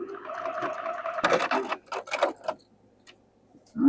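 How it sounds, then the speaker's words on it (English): A sewing machine stitches across fabric in a short, steady mechanical run, moderately close, with no talk over it, then stops into near silence. "you stitch right across here"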